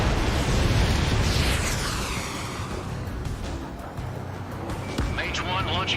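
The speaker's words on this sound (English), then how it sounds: "Mage 1 launching missile." A missile launches from a fighter jet in the video game Ace Combat 7, a loud roaring whoosh that trails off under radio chatter and engine noise, with another burst following near the end.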